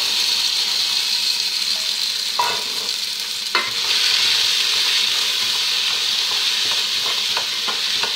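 White beans, soaked overnight, being stirred in a hot pan with a steady sizzle, a few scraping strokes of the spoon standing out against the continuous frying hiss.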